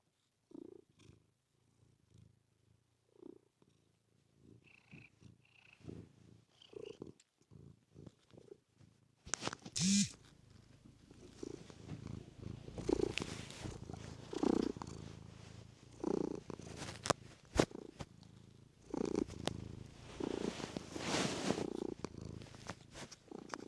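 A cat purrs right against a microphone: quiet, intermittent rumbling at first, then a louder, steady, close-up purr with bumps and rustles as it nuzzles the mic.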